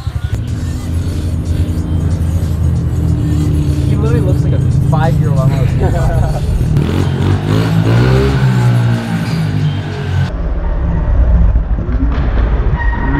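Dirt bike engine revving in a series of rising, whining bursts, close and loud, with people talking and laughing over it, ending with a quieter stretch.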